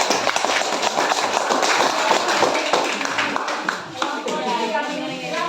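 Audience applause at an Indonesian presentation event, a dense, steady patter of many hands clapping throughout, fairly loud and close, thinning slightly near the end.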